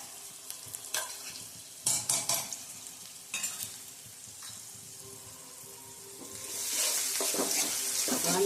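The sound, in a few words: garlic chili paste and grated ginger sautéing for dal fry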